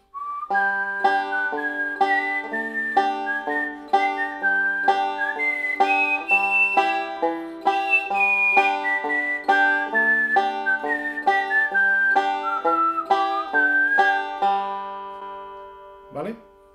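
A person whistles a banjo melody as a clear, continuous run of distinct notes lasting about sixteen seconds, heard alone and close, ending with a short soft sound.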